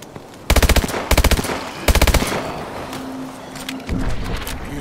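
Rapid automatic gunfire in the video game Exo Zombies, three loud bursts of machine-gun fire in quick succession followed by scattered quieter shots and a low electronic hum.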